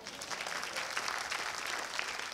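Audience applause at a concert, a steady wash of clapping from a crowd that holds evenly for a couple of seconds with no voices over it.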